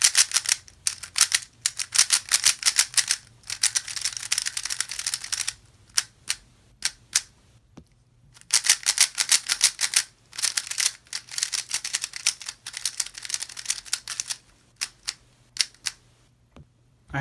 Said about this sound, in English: I'm going to do a sound test to show you that Lubical Silk makes cubes quiet.